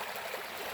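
Water flows steadily at a sanctuary by a lake, a continuous close rushing hiss with no breaks.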